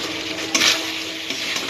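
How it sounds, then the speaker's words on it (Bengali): Four or five green chillies drop into potatoes frying in a pan for a boal fish jhal. A steady, close oily sizzle swells briefly with a hissing splash, then settles back to crackling. "এখন আমি 4-5টা কাঁচা লঙ্কা দিয়ে দিচ্ছি।"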